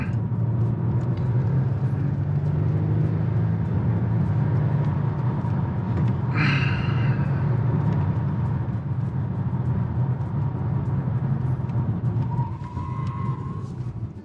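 Steady low road and tyre rumble from a 2024 Volvo S60 Recharge rounding a corner, heard from inside the cabin, continuous and fairly loud with a brief faint squeal midway.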